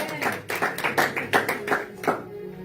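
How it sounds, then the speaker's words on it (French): A church congregation applauding during a service, heard as a run of about nine sharp claps in a steady rhythmic beat, fairly close and loud, ending with a faint room tone. "On acclame Jésus"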